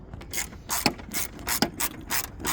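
Hand ratchet clicking in quick bursts while tightening a bolt on a 2003–2007 Honda Accord/Civic windshield wiper motor, close and distinct, several strokes with brief pauses between them.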